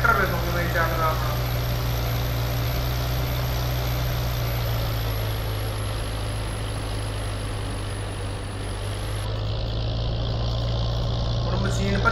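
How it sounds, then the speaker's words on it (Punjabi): A Swaraj 855 tractor, stuck in mud during a corn silage job in Farming Simulator 22, runs with a steady low diesel drone and a constant engine hum throughout, close and unbroken. "ਟਰੈਕਟਰ ਵੇਖੋ ਕਿਵੇਂ ਚੱਲਦਾ ਆਪਣਾ"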